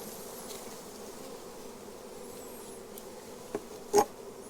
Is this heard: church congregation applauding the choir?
no